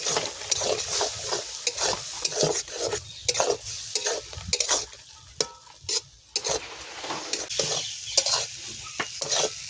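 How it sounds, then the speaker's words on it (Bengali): Soybean roll filling with egg fries in a pan, a lively close sizzle punctuated by repeated rhythmic scrapes and clicks of a spatula stirring against the metal, with no voices. "খুব সুন্দর করে একদম ভাজছি, আরও একটু কষাতে হবে।"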